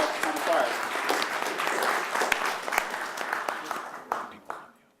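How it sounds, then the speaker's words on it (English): Audience applause for the mayor of Takoma Park at an open forum on immigration, a steady wash of clapping that thins out and fades with a few last scattered claps near the end. "Can we get one more round of applause for the mayor of Tacoma Park?"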